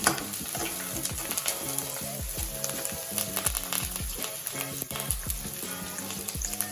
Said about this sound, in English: Fry well.